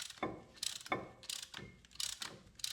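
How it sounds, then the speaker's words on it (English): A brake caliper piston compressor tool is cranked to push the pistons shut during a ceramic brake pad installation, giving repeated ratcheting clicks in a steady back-and-forth rhythm, close and fairly quiet. "So again, all this is cranking those pistons shut"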